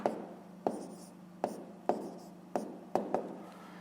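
A pen scratches fractions into a school notebook in short separate strokes, about eight quick taps and scrapes in an uneven rhythm, close and clear over quiet room tone.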